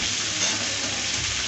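Chunks of pumpkin and potato tumble into a pan of frying vegetables such as pointed gourd and ridge gourd, giving a brief, steady sizzling hiss.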